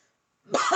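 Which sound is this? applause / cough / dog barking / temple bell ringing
cough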